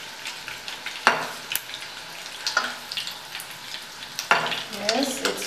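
Eggs fry in hot oil in a pan for a Bengali egg curry, a close, crackling sizzle broken by several sharp pops and spoon stirs, with no talking.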